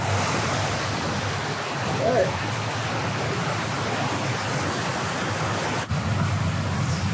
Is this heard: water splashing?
yes